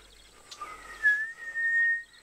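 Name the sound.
quiet whistling with pursed lips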